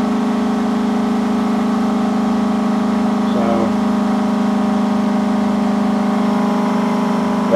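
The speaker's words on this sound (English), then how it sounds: "That's Zero Point Fuel's 3-6 motor." An 8-inch pulse motor spins at high speed, giving a steady, continuous mechanical hum with strong tonal harmonics that stays loud and even throughout, with a brief fluttering disturbance partway through.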